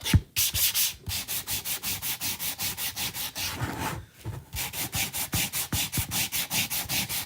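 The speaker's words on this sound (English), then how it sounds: "If you sand it enough, you'll get all that whitewash off." Hand sanding of whitewashed wood, a steady back-and-forth rasping with rapid, even strokes, close and fairly quiet, with a couple of brief pauses and no talking.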